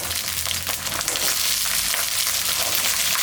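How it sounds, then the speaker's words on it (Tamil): Small peeled shallots and coriander leaves fry in oil in a pan, producing a loud, dense, continuous sizzle with a few faint stirring scrapes, heard up close without any talking. "பாருங்கள், வெங்காயம் இந்த அளவுக்கு நல்லா வதங்கிட்டு இருக்கு."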